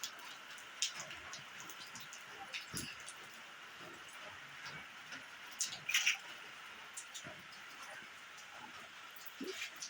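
Light rain pattering steadily on a surface, with scattered louder drips and small taps standing out now and then; faint and fairly close.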